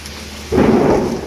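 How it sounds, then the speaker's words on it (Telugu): A sudden, loud boom of thunder breaks in and rumbles on over the constant wash of heavy rain. "ఇప్పుడు వాన పడుతుంది, ఇప్పుడు పిడుగు డాబ్ అని పడుతుంది చూడండి"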